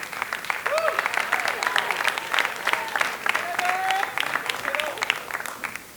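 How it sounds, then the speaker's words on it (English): Applause breaks out for the next reader at a high school writers' week event. The crowd claps loudly and continuously for several seconds, with scattered cheers and whoops rising above the clapping. "Round of applause for her."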